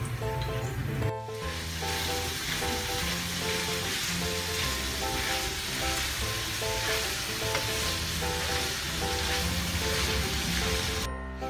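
Ground pork sizzles loudly and steadily in a pan, a dense, even hiss with a faint background hum, beginning after a short clatter and holding for over ten seconds.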